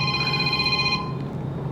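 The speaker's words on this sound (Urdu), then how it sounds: "حضور ایک کال آ گئی، اگر اجازت ہو تو بسم اللہ۔" A telephone rings with an incoming call during a broadcast religious program, a steady electronic ringing tone that holds for about a second, then fades into quiet room noise.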